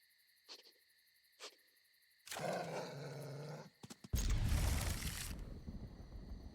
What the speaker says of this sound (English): Oh my god, that dog is making noise!